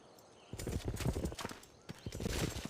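Horse unit hooves in the Civilization 5 video game, a quick run of close, loud clip-clop steps in two bursts.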